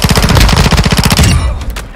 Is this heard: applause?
no